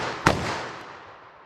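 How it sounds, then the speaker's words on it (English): A single sharp .357 Magnum handgun shot cracks once, loud and close, then decays into a brief echoing tail. "357 mag. Let's see what I can do with this."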